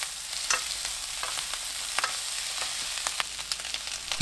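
Sausage and potatoes stir-fried in a pan, a steady crackling sizzle broken by sharp, irregular clicks and scrapes of a utensil moving the food around, with no voices.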